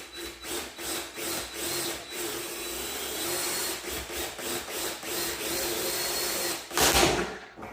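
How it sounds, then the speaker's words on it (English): A power drill bores into a plastic storage tub used as a mushroom monotub, giving a repeated grinding, rasping whir in short pulsing bursts. A louder harsh burst near the end suggests the plastic cracking. "Let's just see what happens when I use a drill."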